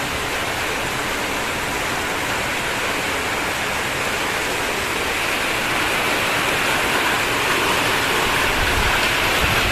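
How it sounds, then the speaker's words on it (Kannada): Heavy rain pours down steadily, a dense, unbroken hiss of falling water that holds at a constant loud level for the full length with no voices. "ಜೋರ್ ಮಳೆ ಸ್ಟಾರ್ಟ್ ಆಗ್ಬಿಟ್ಟಿತ್ತು."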